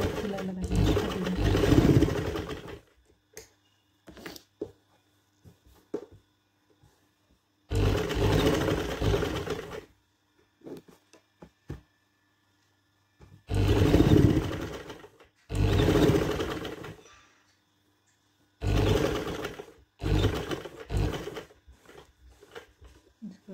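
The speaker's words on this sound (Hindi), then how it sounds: "बॉक्स के चारों तरफ सिलाई लगाएंगे हमें ऐसे इस तरह से" An electric sewing machine stitches around square box panels on a girls' trouser bottom, running in several loud whirring bursts separated by pauses, with a voice speaking at times.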